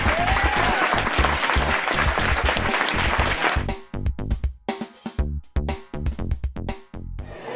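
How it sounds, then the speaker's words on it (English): Loud applause from an audience, dense clapping that thins into scattered individual claps and fades out near the end. "big round of applause for our guest speaker, Dave Armano"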